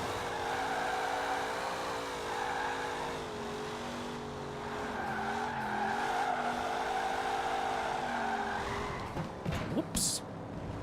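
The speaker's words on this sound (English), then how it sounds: "This thing does great burnouts." Car in Forza Horizon 4 doing a burnout: a steady, loud engine drone with wavering tones and tire squeal runs the whole time, then ends in a few sharp bursts and a brief high screech.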